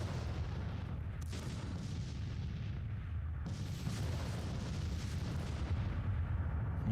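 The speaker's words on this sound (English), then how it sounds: "our 2 batteries are in action. Firing at these rebel guns." Civil War artillery batteries firing in the video game Grand Tactician, distant booming cannon shots, two sharp reports over a continuous low rumble of battle.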